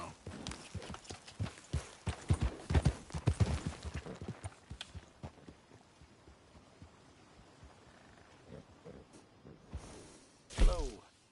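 Horse hooves clip-clop in a video game, a brisk rhythmic run of hoofbeats that slows and fades to sparse steps, ending with a louder burst of noise.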